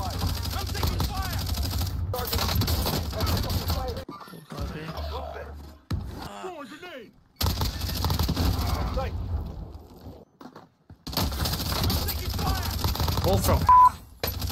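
Close, loud bursts of automatic gunfire in a Call of Duty match on Rebirth Island, firing in long stretches broken by short gaps, with game voice chatter underneath.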